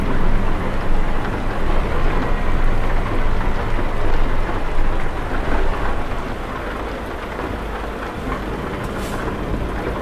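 Rain falling in Euro Truck Simulator 2 while driving a Mack Anthem 70 sleeper truck: a loud, dense, continuous downpour with low rolling thunder underneath, easing slightly toward the end, and no voices.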